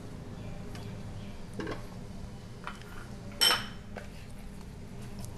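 Fish being stirred with lemon juice and olive oil marinade in a bowl, soft wet scraping with occasional light clinks of a utensil against the dish, close and quiet, one brighter clink midway.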